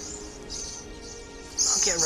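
Swifts swooping close overhead give high, shrill chirping calls, faint at first, then a louder burst near the end, under a steady hiss of jungle insects.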